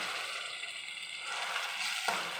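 Grated tomatoes fry in a pan for paneer bhurji, giving a continuous close hiss and sizzle with a sharp clack near the end.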